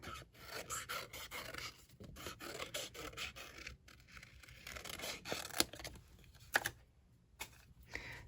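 Paper fussy cut with scissors by hand for a stamped sea turtle beach card scene, giving close, quiet, uneven raspy snips and rubbing scrapes in a steady run with brief pauses and no talk.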